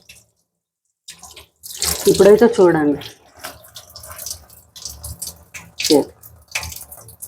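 Water splashes and runs intermittently while an RO water purifier is rinsed clean, with a person talking over it.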